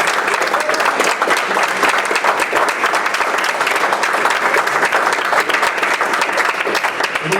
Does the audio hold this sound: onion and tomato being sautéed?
no